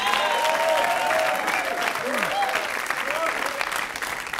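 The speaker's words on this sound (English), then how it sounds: "Give them a round of applause, you guys." Studio audience at a dating game show breaking into loud, sustained applause, a dense wash of clapping and cheering that carries on throughout and tapers only slightly toward the end.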